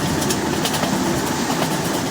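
An Indian train running at speed in a simulator game, a loud steady rumble with faint rhythmic rail clatter and a light airy hiss throughout, no voices.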